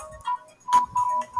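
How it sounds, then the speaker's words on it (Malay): A phone's ringtone chimes during a physics lesson on virtual and real images, sounding a short electronic tone in repeated bursts. It comes through clear and fairly loud with brief gaps between the rings. "kejap cikgu ada telefon"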